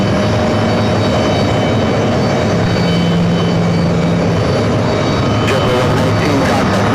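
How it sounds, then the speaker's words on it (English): Loud, steady jet engine roar and airport rumble surround an Air India A350 airliner being pushed back from the gate at JFK, a continuous drone with no talk. "they're going to be pushing back that Air India A350"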